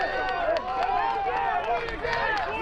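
Crowd at a rugby match near Chicago, a steady murmur of many voices with scattered claps and shouts, heard under a commentator talking throughout.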